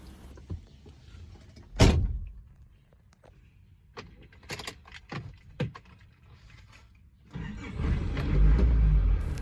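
An Isuzu Fuego truck starting up: a few clunks and thumps inside the cab, then the engine catches near the end and settles into a steady, loud low rumble.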